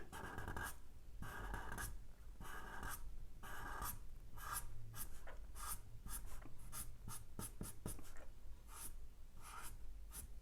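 A marker or pen drawing bold lines on paper, with loud, close, scratchy strokes repeating in quick bursts throughout and no talking.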